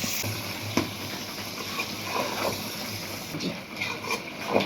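Low, steady frying sizzle as meat and spices sauté, with occasional stirring scrapes in a pan, a soft hiss running throughout.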